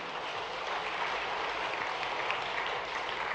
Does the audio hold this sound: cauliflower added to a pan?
no